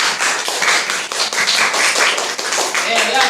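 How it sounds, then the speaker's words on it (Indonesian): Group of people clapping together in a classroom activity, a dense burst of claps with voices mixed in, close and loud. "Oke, tepuk tangan untuk kita semua."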